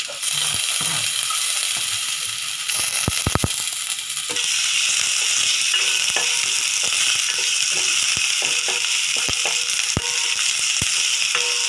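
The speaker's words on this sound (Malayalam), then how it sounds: "സവാളയും വെളുത്തുള്ളി ഇഞ്ചിയൊക്കെ ഒന്ന് മൂക്കട്ടെ." Onion, garlic and ginger fry in a pan for a Kerala-style moru curry, with a loud, steady sizzle and occasional scraping stirs against the pan.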